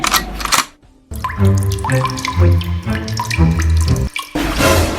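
Water runs from a tap for drinking, a steady splashing gush with rising tonal gurgles as it fills, loud and close, briefly stopping and restarting.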